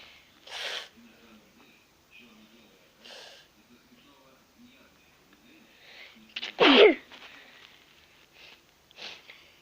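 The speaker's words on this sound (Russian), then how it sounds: "Я что-то горлом чихаю." Someone lets out a single sharp, loud sneeze from the throat at close range, surrounded by softer sniffs and breaths in a quiet room.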